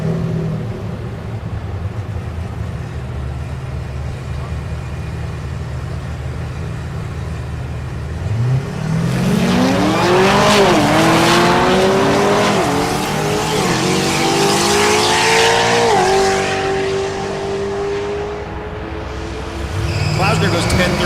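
Drag racing at Thunder Valley in Noble, Oklahoma, with a stick-shift class Chevrolet Silverado and another car launching side by side. After a steady idle, loud engines roar up through rising gear changes, with tire noise, and then fade as they run down the strip.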